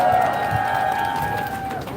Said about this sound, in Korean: 큰 박수 드립니다. 큰 박수 주세요.